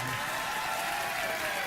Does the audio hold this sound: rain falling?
no